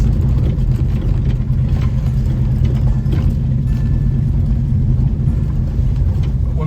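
An old car nicknamed Old Blue driving down a beach-town road, its engine a loud steady low rumble heard from inside, continuous with no talking.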